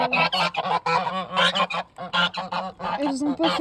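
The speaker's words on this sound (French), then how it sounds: "Ensuite, les oies" Several geese honk repeatedly in quick, overlapping calls, loud and close, with brief gaps between bursts.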